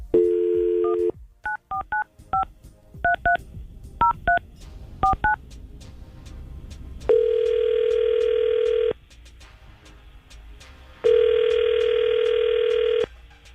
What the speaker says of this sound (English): let's see if we can get Nick on the phone